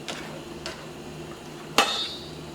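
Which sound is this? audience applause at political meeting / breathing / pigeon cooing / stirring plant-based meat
stirring plant-based meat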